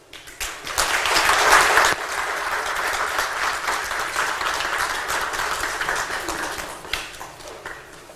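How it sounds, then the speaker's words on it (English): Conference audience breaks into loud, dense applause after a speaker finishes, a sustained roomful of clapping that peaks early and carries on evenly for several seconds. "deserves another round of applause"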